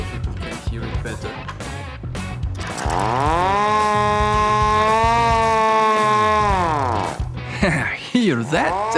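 A 3D printed hand-cranked siren winds up from a whirr into a loud sustained wail, holds steady, then falls away, with music and a voice underneath.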